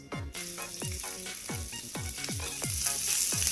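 Vegetables for fried rice hit hot oil in a pan and sizzle loudly and steadily. Recurring sweeping spatula strokes repeat roughly every half second, and the frying grows a little louder toward the end.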